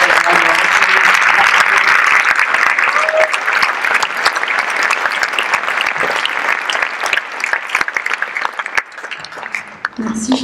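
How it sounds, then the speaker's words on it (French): A crowd at an opening ceremony applauds loudly for the artistic director, with dense clapping and some cheering. The sound fades and thins toward the end, and faint speech is mixed in. "je vous demande de faire un maximum de bruit pour Charlotte Serrand"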